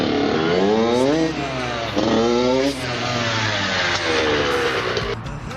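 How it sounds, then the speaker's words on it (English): Motocross motorcycle engine revving while ridden, rising in pitch through each gear then dropping at shifts, about four climbs in under six seconds, loud and close with no talk. "how you know when to shift is usually by the sound of the bike"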